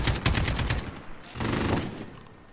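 A light machine gun fires in Call of Duty: Modern Warfare survival mode, a rapid burst of rattling shots followed after a short gap by a second burst.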